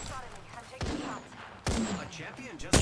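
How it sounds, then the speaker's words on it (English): Sharp bursts of video game gunfire from an opponent crack out in three distinct volleys, close and loud, interleaved with talk from a player. "A champion just shooting at me."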